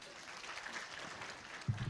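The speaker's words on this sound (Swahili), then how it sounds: "Makofi kwa Mount Elgon" Crowd applause at a Western Kenya Azimio la Umoja aspirants' meeting in Trans Nzoia, greeting Mount Elgon county assembly members. It is a steady, dense wash of clapping at moderate distance, with a low thump and brief voice near the end.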